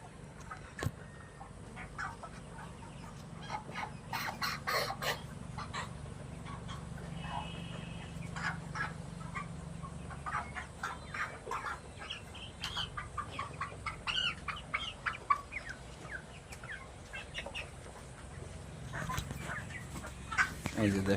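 Chickens on a poultry farm cluck and squawk in scattered bursts, some close and sharp, others softer, over a low steady background hum.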